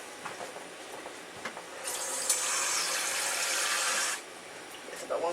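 Water poured into a pot of stewed beef, tomato and vegetables for a rigatoni and chorizo dish, a steady rushing splash lasting about two seconds, near and fairly loud over quiet kitchen background.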